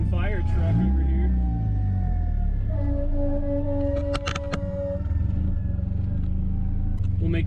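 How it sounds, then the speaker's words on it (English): Fire truck siren wailing in traffic heard from inside a loud KA-T 240sx, the rising and falling tone carrying over the car's engine rumble, with someone talking over it. "Gotta get out of the way for the fucking fire truck over here."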